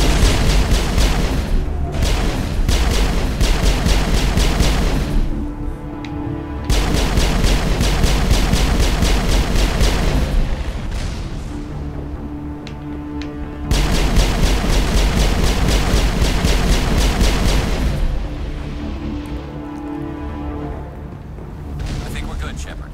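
Rocket explosions in the video game Mass Effect, heard as loud, dense blasts and gunfire that rage in long bursts with short lulls between them, while voices talk over the combat.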